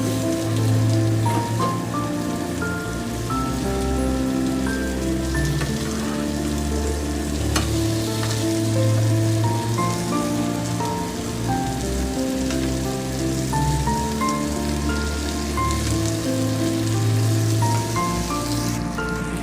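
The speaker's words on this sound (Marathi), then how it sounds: "मी इथे दुसऱ्या पॅनमध्ये पण घातले शिजायला, फ्राय करायला." Pomfret (halwa) fish fillets fry in a pan Koliwada style, giving a steady, dense sizzle and crackle that runs unbroken throughout, with a melodic tune playing over it.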